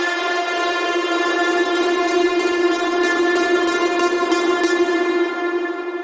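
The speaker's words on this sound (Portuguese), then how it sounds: "ele é só uma wave simples dentro do Vital, e aí a gente tem ela passando por um filtro" A simple wave synth in Vital passed through a filter, holding one steady, bright, buzzy tone rich in harmonics, with a faint rhythmic pulsing in the highs, alone and fading slightly at the end.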